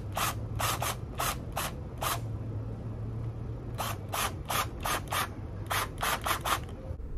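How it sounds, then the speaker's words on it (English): A half-inch drill bit widens the magazine holes of an HDR 50 .50-caliber pellet revolver cylinder, heard as a series of short, harsh grinding bursts in two clusters with brief pauses between, close and fairly loud, no talking. "Now when you drill, make sure you leave a few millimeters at the bottom on the backside of the cylinder"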